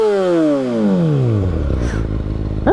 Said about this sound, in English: I don't want to rev bomb in front of her, but now I can, I guess.